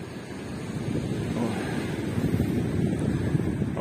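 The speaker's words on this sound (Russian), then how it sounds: "днем, по-моему, сильнее было море, более волнистое" Sea waves washing onto the shore, a steady broadband rush mixed with wind noise on the microphone, no voices.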